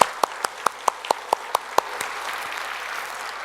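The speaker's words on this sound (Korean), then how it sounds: "박수, 격려 한번 하겠습니다." Church worshippers applaud the praise team and choir, first in crisp evenly spaced unison claps, then breaking into a softer, ragged spread of scattered applause that fades out.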